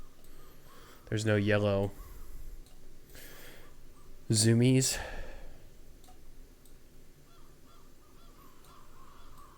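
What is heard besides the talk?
crows cawing in the horror video game Wardwell House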